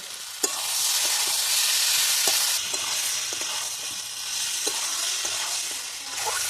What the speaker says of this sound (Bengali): আদা আর রসুন বাটাটা এর মধ্যে দিয়ে দিলাম দিয়ে আমি আবার ভালো করে কষে নেব কিছুটা লঙ্কা গুঁড়ো দিয়ে দিলাম